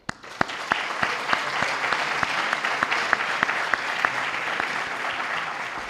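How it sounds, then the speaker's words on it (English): Film festival audience applauding the submitted films: sustained crowd clapping fills the whole stretch, with a few sharper individual claps standing out at a steady rhythm, moderately loud and close. "So for those that submit films, please a huge applause."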